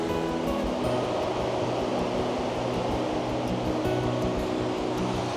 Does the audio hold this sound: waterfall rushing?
yes